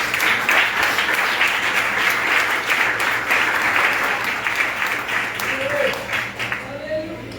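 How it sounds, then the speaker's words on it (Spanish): A church congregation applauding during a sermon, dense sustained clapping that fills the room for several seconds, with a voice speaking over it. "Dale un aplauso al Señor, hermano."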